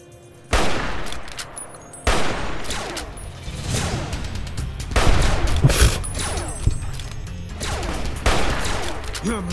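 Hunting rifle gunshots in the video game Fallout New Vegas: several sharp, loud reports spaced a second or two apart, each followed by a decaying echo, with no talking.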